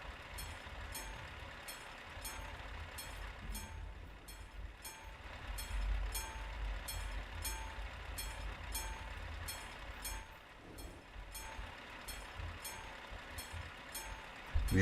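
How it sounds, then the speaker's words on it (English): A train in Euro Truck Simulator 2 passes a level crossing with a steady rolling rumble and regular clickety-clack of wheels over rail joints, continuous and moderately near with no talk. "Yep, we have another train."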